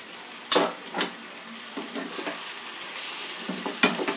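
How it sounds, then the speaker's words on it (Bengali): Chicken pieces fry and sizzle in spices for a chicken masala, with a soft steady hiss broken by several sharp spoon scrapes and stirring knocks against the pan, close and fairly quiet. "মাংসটা এখন কিছুক্ষণ আমি কষিয়ে নেব, মাংস থেকে জল ছাড়া পর্যন্ত।"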